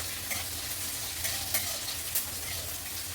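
Onions fry until reddish-brown in a pan, giving a constant hissing sizzle with a few faint clicks of stirring, steady and fairly quiet.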